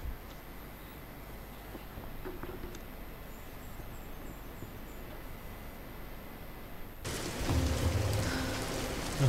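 Rain falls in the Tomb Raider video game, a steady faint hiss of downpour that swells louder and denser toward the end, with no talk over it.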